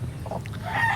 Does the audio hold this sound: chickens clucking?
yes